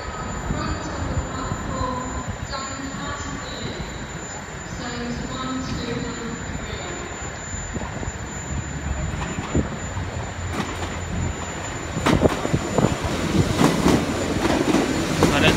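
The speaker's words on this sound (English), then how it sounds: "Got the London Paddington service coming in" A London Paddington service rolls into Exeter St David's station on a Sunday evening, a steady rumble with wheel squeal that builds louder toward the end, faint background noise and no speech.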